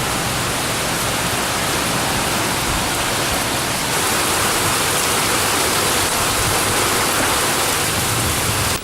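Steady, dense rain hisses down in an unbroken wash around a satellite dish outdoors, loud and constant throughout with no breaks or voices.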